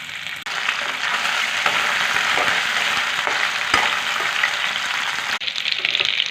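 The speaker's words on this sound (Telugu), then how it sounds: "ఇప్పుడు చికెన్ ఫ్రై చేసుకుంటాను" Chicken pieces frying in hot oil in a kadai, a steady dense sizzle with soft crackles that fills the whole stretch, close and fairly loud, with no voices.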